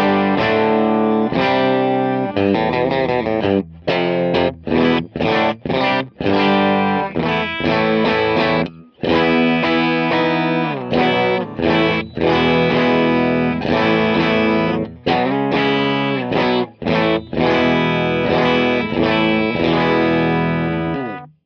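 A Telecaster-style electric guitar plays rhythm through a Fractal FM9 amp model, giving a distorted, punchy tone with chorus-like effects in a run of chopped chords and short stabs, loud and steady without any talking.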